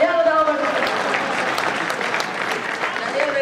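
Audience applause at a Hindi comic poetry recital, a dense steady wash of clapping held at even loudness for several seconds, with a voice audible over it near the start.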